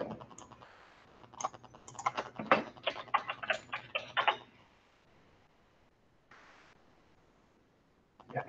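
Keys being typed on a computer keyboard in a quick burst of close clicks lasting a few seconds, then silence with a faint later tap.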